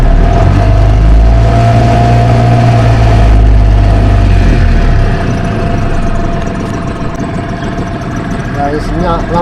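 Outboard engine of a small fishing boat on a river running steadily and loud, with a strong low drone that drops slightly in level partway through, and voices talking over it.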